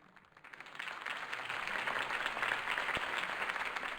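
Crowd applause after a mayoral campaign speech in an animated Batman series, a steady wash of clapping swelling up from quiet and holding at moderate level, slightly distant.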